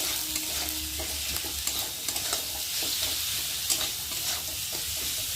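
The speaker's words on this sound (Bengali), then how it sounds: "দিয়ে আলুর সাথে টমেটোটা ভালো করে কষিয়ে নেব।" Potatoes and chopped tomato with salt and turmeric sauté in a pan for a spicy semolina dish, giving a steady, close sizzle with soft stirring scrapes and no talk.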